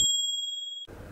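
A single bright bell ding rings out cleanly, sustaining a clear metallic tone for nearly a second before stopping abruptly.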